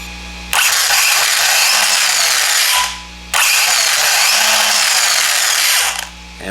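An RC car's steering servo, run through a Radiolink RC8X receiver with gyro, whirs loudly in two sustained mechanical bursts of about three seconds each, near and alone, with a short pause between them.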